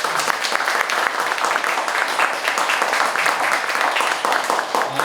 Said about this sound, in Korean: 저희 김세진 교수님께 한 번만 더 박수 한번.